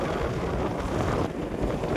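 Strong wind blowing steadily over open paddy fields, a loud continuous roar with buffeting on the microphone and no talk.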